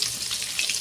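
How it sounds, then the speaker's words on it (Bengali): Potato pieces with turmeric fry in hot oil in a pan, giving a steady close crackling sizzle with small bursts of spitting throughout. "আলুটা ভালো করে ভেজে নেব।"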